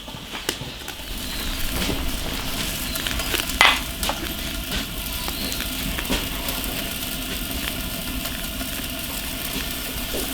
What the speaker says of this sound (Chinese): 大火烧开，小火慢焖1个小时。